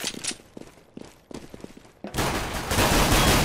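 Gunfire in the video game CS:GO: a few sharp, spaced shots and clicks at first, then a loud, sustained burst of rapid automatic fire filling the last second and a half.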